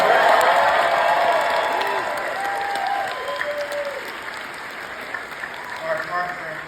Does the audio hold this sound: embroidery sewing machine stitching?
no